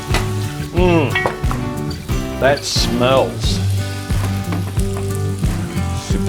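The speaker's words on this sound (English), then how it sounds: "I'll let that sizzle away for a little while" Steady sizzling of Scotch fillet steak frying in a hot pan, with a voice speaking briefly over the crackle.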